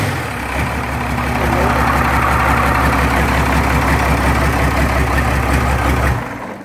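A car engine cranks and then runs at a steady idle, a loud, close, continuous low rumble lasting around six seconds before it cuts off abruptly.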